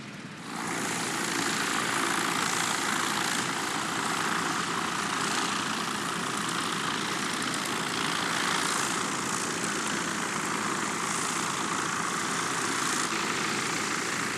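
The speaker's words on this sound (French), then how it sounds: "La fête continue par le décollage d'un magnifique Bucher 131. Il est rejoint en vol par le Focke-Wulf FW44 au nom évocateur." Vintage Bücker 131 and Focke-Wulf Fw 44 biplanes at the La Ferté-Alais air show, taking off and flying: a steady, loud propeller-engine drone that rises from a short quiet start and holds for the whole stretch.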